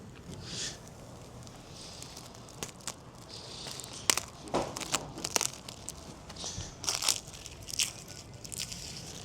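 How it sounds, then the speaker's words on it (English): Plastic protective film peeled off heavy skylight glass during a house extension build, giving irregular crackling and crinkling bursts that come and go, fairly faint and close, with no talk. "Take all the plastic off."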